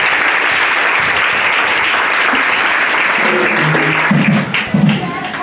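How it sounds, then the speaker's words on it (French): A church congregation claps steadily throughout, a dense, loud wash of applause filling the space, with a few voices rising and fading near the end. "On acclame encore le Seigneur pour nous"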